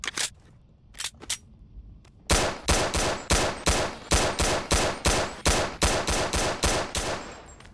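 P226 pistol with a muzzle attachment firing in BONELAB, the virtual reality game: a few scattered shots, then a fast, steady string of loud, sharp reports close by, with no speech.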